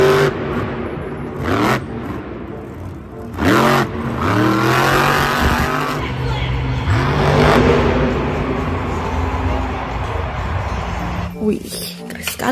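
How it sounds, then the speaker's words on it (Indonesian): A toy monster truck gives off engine-like revving and whirring sounds in repeated rising and falling swoops, loud and close, with people talking excitedly throughout. "Wih, monster truk."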